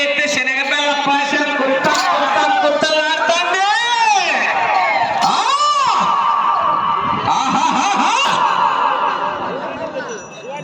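A crowd shouts and cheers at a village bull race in Chilamakur, with loud, dense voices and rising whoops throughout that fade slightly near the end.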